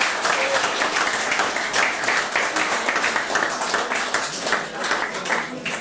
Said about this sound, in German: bitte jetzt auch hier einen Applaus für unsere Band, ja?